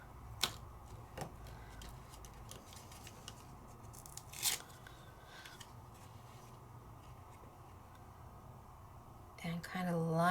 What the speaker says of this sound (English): Let's get some Stacy tape on the back.